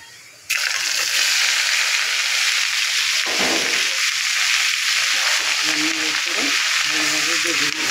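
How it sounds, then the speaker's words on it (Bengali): Leafy greens drop into hot oil with browned onion, garlic and dried chili, bursting into a loud close sizzle after a brief quiet moment, then a steady frying hiss with occasional stirring. "ভালোভাবে ভেজে নেব।"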